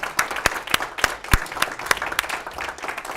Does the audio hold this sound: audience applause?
yes